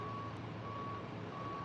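Steady high-pitched reversing beeps from a big truck, sounding continuously over low engine rumble and traffic noise, with no talking.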